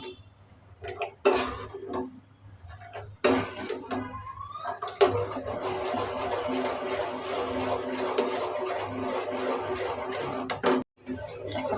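A spoon scrapes and knocks steadily around a pot of cow milk custard on a switched-off stove, continuous stirring with rubbing texture and a few sharp clinks against the metal, close and fairly loud, with no talk.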